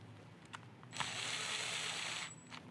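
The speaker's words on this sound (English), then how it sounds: "I'm going to go ahead and cinch down all these screws here." Screws being snugged down on the receiver of a Tippmann Cronus paintball marker, heard as one steady, close whirring stretch of about a second and a half of driver noise with faint taps before and after.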